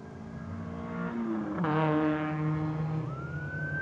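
A car speeds past while fleeing police, its engine pitch rising and then falling as it goes by. A siren-like rising tone follows near the end, heard at moderate distance over road and wind noise.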